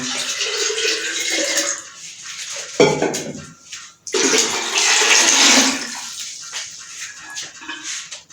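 Water splashes and gurgles into a metal pressure cooker in uneven pours, about 1.5 jugs for beef yakhni pulao, with clanks of the vessel and a brief pause between pours.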